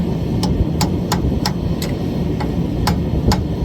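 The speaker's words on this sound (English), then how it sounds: "now I take our chisel. Gotta kind of get it right there." Chisel struck with a hammer against the edge of a rear axle hub on a 2002 Dodge Ram 3500, giving eight sharp metallic taps at a steady, slightly uneven pace over a low rumbling background, with no talk.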